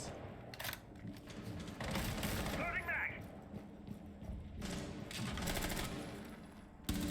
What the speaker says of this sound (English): Spots the gunfire.